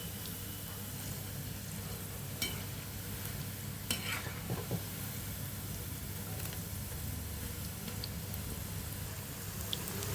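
Onion pakoda deep-frying in hot oil gives a steady, dense sizzle that runs unbroken throughout, with a few sharper pops and crackles rising above it, close and fairly loud, with no talking.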